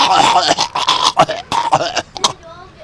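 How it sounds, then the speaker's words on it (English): Several rough, wet coughs and throat-clearing bursts come in quick succession close by, ending with a short wheezy breath. "quit coughing all over my computer"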